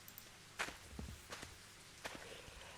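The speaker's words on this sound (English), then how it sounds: "our footsteps on the muddy road" Several footsteps squelch along a muddy road in the Higurashi video game, faint and unevenly spaced, with a few soft steps in a row over quiet background.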